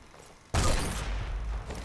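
In Sniper Elite 4, gunfire at a shooting range erupts after a quiet half-second: a sudden loud volley of shots and blasts that keeps rumbling and crackling, close and dense, until the end.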